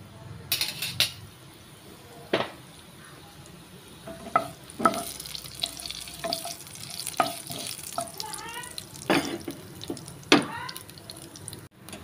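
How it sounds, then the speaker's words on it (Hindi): Cumin seeds in hot oil in a pan give a soft, continuous sizzle, broken by scattered clinks and scrapes of a spoon and a few splashy kitchen noises, with no talk. "तेल मातशें गरम जालें तशें जिरें घाता फोण्णां"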